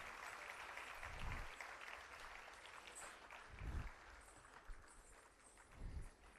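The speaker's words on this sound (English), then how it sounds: "Vidwan Shri N. Narayana Swami, deserves a huge round of applause for his skill and experience." An audience at a Bharatanatyam arangetram applauds the mridangam artist, a soft, distant wash of clapping with a few low thumps breaking through, faint and continuous.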